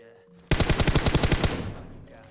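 Rapid automatic gunfire from PUBG gameplay, a loud close burst of about a dozen evenly spaced shots lasting roughly a second before trailing off into faint echoes.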